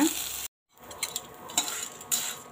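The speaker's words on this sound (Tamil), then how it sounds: "இந்த ரெசிபிக்கு தேவையான உப்பையும் சேர்த்து நல்லா வதக்கிக்கலாங்க." Ingredients for cauliflower rice with salt added roast and get stirred in a hot pan. A brief dropout is followed by a steady sizzle punctuated by scraping spoon strokes against the pan, close and clear with no talk.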